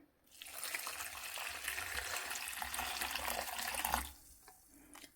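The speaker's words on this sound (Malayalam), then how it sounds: "ഇനി നമുക്ക് കുറച്ച് വെള്ളം ഒഴിച്ചു കൊടുക്കാം" Water poured from a vessel onto chopped jaggery in a cooking pan, a steady splashing pour lasting about three and a half seconds before it stops, close and fairly quiet.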